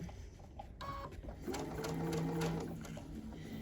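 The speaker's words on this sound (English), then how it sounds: "So as you sew, you're going to bring those fabrics together." A sewing machine runs steadily, stitching quilt fabric pieces together with an even 1/4 inch seam, its continuous mechanical whir loud and close with no talking over it.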